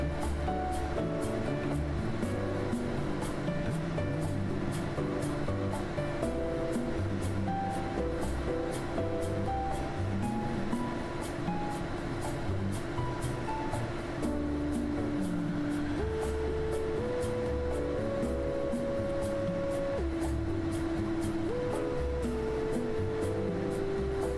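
Elevator ride in the game The Stanley Parable, a continuous mechanical hum and rumble with rhythmic ticking clicks, steady tones stepping in pitch partway through, loud and unbroken for the whole stretch without talk.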